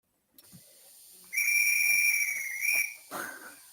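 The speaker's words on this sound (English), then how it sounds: "This Class 37, you must have heard that whistle then." A Class 37 model locomotive sounds its whistle, a steady high two-tone toot held for about a second and a half after a soft hiss, then a short breathy burst at the end, close and with no talk.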